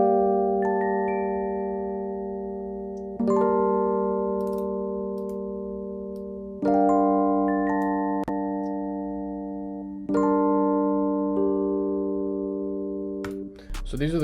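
Rhodes electric piano sample run through effects processing, playing sustained mellow chords that restart about every three and a half seconds, each decaying slowly with a soft top line above, no voices.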